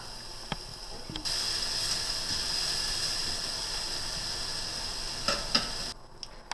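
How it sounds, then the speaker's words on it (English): Garlic sizzles in a pan as it is stirred, a steady soft hiss with a few light clicks and scrapes from the stirring and no talking. "Just going to stir this up until you can start to smell the garlic."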